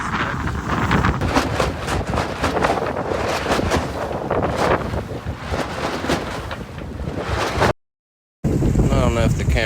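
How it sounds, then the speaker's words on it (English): Strong wind roars across the microphone aboard a small sailboat, a loud continuous rushing buffet with water noise beneath it and a brief dropout near the end. "This wind is ripping today."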